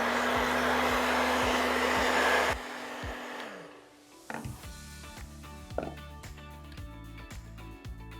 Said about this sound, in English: we're just gonna heat a little bit on the top